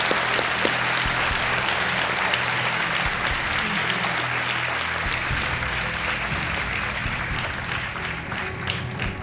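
Steady, dense applause from a large TV quiz show studio audience fills the whole stretch at an even, loud level, with faint voices mixed in.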